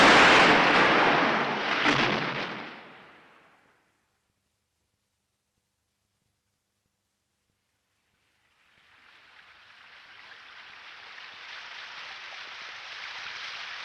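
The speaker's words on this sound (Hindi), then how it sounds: "फिर जोर से बारिश आई।" Heavy rain pours down in a dense, steady hiss, loud at first, then fading to silence for several seconds before a fresh downpour swells back in and holds steady.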